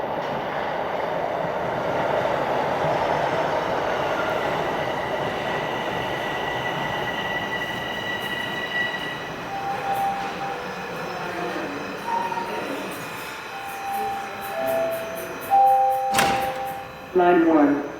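A Toronto subway train on Line 1 northbound rumbles in and slows, wheels squealing and screeching with rising tonal whines near the end, over a steady loud roar with faint talk.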